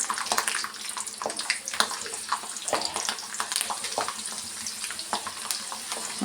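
Finely chopped onions fry in a pan with a busy, crackling sizzle, close and steady throughout with small bursts of spatter and stirring.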